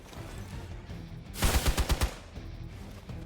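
A short, loud burst of rapid automatic gunfire, about five close cracks in quick succession, erupts from the Midnight Suns video game amid a low, steady game backdrop.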